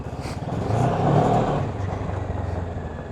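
A Kawasaki Ninja 650 motorcycle rides along a road, its engine note swelling as it accelerates and then settling to a steady drone, heard close with wind rush and no talking.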